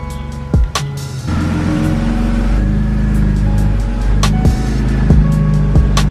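A BMW E46 engine runs steadily as the car is driven indoors, a low continuous rumble with brief clicks and knocks early on, close and loud without speech.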